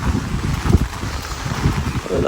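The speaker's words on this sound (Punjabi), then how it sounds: "ਹਵਾ ਚੱਲਦੀ ਮੈਂ ਦਿੱਕਤ ਹੋੜੇ ਨਾ ਜਾਈ" Wind gusting outdoors during a heavy rainstorm, a continuous rough rumble buffeting the microphone, loud and close throughout.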